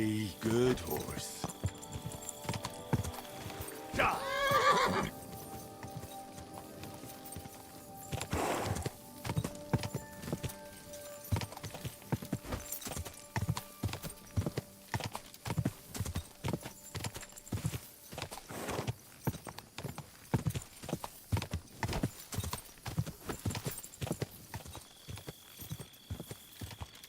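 Rhythmic hoofbeats clip-clop steadily throughout, with a horse whinnying early on, over game music and occasional voice, in the video game Kingdom Come: Deliverance II.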